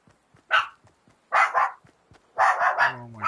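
Dogs in a Fortnite match bark in three bursts: a single bark, then a double bark, then a quick cluster ending in a whine, fairly close with quiet gaps between.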